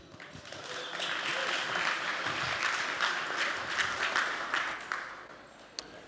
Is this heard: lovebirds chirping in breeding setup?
no